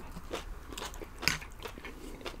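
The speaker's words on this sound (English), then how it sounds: "So I will try the papaya salad here." Biting and chewing papaya salad close to the microphone, a series of moist crunches and wet chewing sounds with one sharp crisp bite at mid-point.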